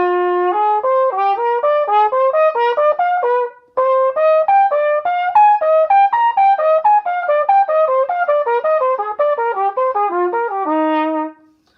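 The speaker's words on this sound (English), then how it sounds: "the fourth way would be what's called scale tone triads" Jazz scale exercise of scale-tone triads, three-note arpeggios stepping up through a scale in a steady run of clean notes, with a brief pause partway and ending on a held low note.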